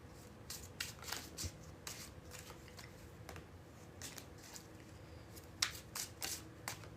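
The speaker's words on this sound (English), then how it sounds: "The bridge shuffle." A deck of playing cards is riffled and bridged several times in close succession, the crisp fluttering bursts repeating every second or so against a quiet room with no talking.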